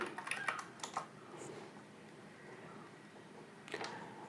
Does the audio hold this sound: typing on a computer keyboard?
yes